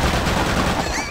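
Enemy gunfire in Return to Castle Wolfenstein: a short, loud burst of rapid shots filling the whole moment, with no speech over it.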